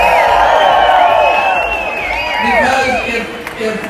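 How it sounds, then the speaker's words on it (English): A large audience at a political rally in a Brooklyn bowling venue claps and cheers steadily, whoops and shouts rising over the sustained applause for several seconds. "Yes, applaud them."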